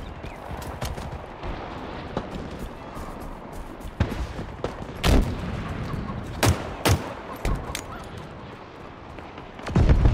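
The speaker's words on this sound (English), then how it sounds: "Shots." Gunshots in the shooter game Halo Infinite ring out as scattered loud single cracks and short bursts over a constant ambient game bed, with sharp reports spaced irregularly through the clip.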